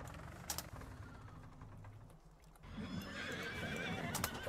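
Horses in the Farming Simulator 19 farming game whinny and neigh over a steady background hum, with clip-clopping hooves and a brighter burst of activity in the second half.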